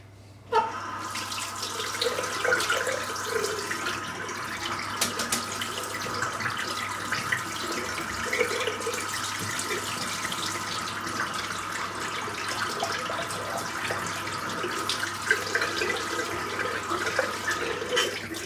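Tap water runs steadily through a Bic Flex razor cartridge over a sink, a continuous close splashing stream that starts abruptly and carries on for the whole stretch without talk.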